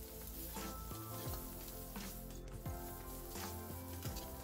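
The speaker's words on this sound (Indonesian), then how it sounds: "Sekarang kita tumis kembali sampai semuanya harum dan layu." Chili, garlic and galangal sautéed in a pan, a continuous frying sizzle broken by repeated stirring scrapes, no voices.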